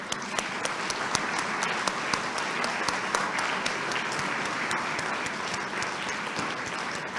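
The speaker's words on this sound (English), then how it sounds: "put our hands together for a resounding round of applause one more time for all of our awardees this year" Sustained applause from an audience honouring award recipients at an independence investiture ceremony, a dense, even roar of clapping with no break across the whole stretch.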